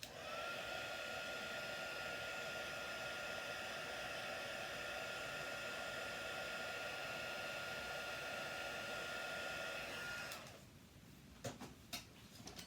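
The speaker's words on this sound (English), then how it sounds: "Go with the heat tool." A heat tool blows steadily at close range while embossing a card-making project for a sunflower card, a loud even whoosh for about ten seconds before it shuts off, followed by a few light taps.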